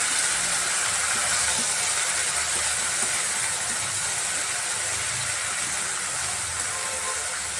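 Potato, brinjal and capsicum pieces fry in an oiled pan for a vegetable gojju, a steady loud hissing sizzle that holds evenly throughout with no voices.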